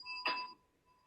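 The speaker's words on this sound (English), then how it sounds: "it's almost like a school bell, but it's good." A short electronic timer chime rings once at a candidate forum for U.S. Senate, a single bright bell-like tone lasting a fraction of a second in an otherwise quiet room.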